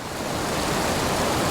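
A wilderness waterfall at a tenkara fly-fishing spot gives off a steady, dense rush of falling water that stays loud and unbroken throughout, with no voices.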